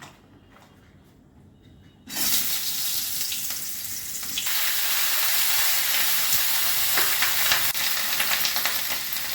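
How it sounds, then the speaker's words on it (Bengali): Loud, steady sizzling of pointed gourds frying in hot oil, starting abruptly after a quiet moment and crackling continuously throughout. "প্রথমেই আমি পটলগুলো ভেজে নিচ্ছি"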